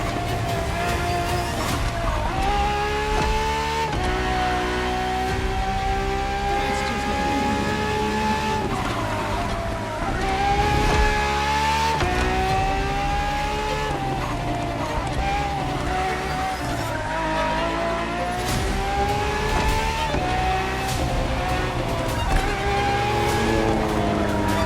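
A Ferrari FXXK race car in The Crew Motorfest howls at high revs, loud and steady, its engine note climbing through each gear and dropping at the shifts, with tyre squeal mixed in, no voices.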